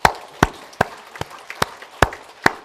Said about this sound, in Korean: 우리 예수님께 감사와 영광의 박수 올립니다